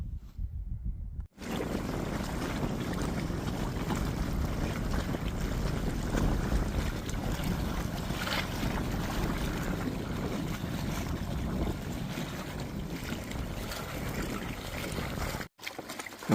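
Kayak crossing open water on a trip to a remote beach for an overnight camp, with steady close water and paddle wash plus wind rumble running continuously throughout, without speech.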